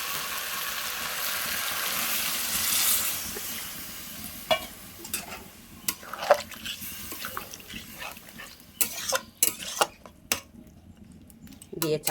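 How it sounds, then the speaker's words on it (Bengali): Water is poured into a hot pan of chicken and young jackfruit curry, a loud rushing sizzle for a few seconds. Quieter bubbling follows, broken by scattered clinks and scrapes of stirring. "এবার জল ঢেলে দেবো"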